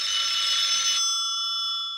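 A bright electronic ring sounds once, then its tone fades out, close and clear with no one speaking.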